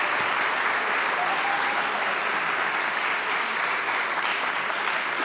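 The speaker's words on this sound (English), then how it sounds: "Round of applause for Juan." Sustained, dense applause from an audience at a leadership awards ceremony, a steady wash of many hands clapping with no break across the whole stretch.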